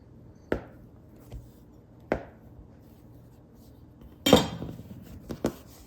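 A knife cuts high-protein naan dough into four pieces on an old countertop: three sharp, separate thuds against the hard surface, then a cluster of clattering knocks, with no voices.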